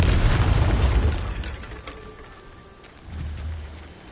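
A Bombarda spell blast in the video game Hogwarts Legacy: a loud, close explosive boom that rolls off over about a second and a half, then a quieter rumbling thud near the end.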